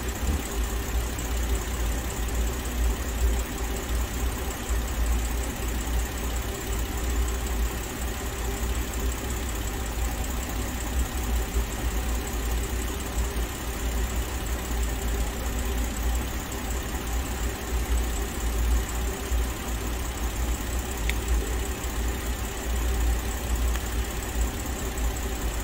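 A Kia Carnival engine idles steadily for a long stretch, a close, constant low drone with a faint mechanical ticking and no speech.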